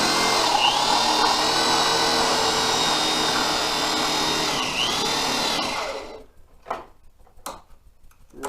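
A power drill spins a wooden blank through a piece of plain steel to cut dowels for a nightstand build. A loud, steady, close-up whine runs for about six seconds with brief pitch dips, then cuts out, leaving a few light knocks and clicks.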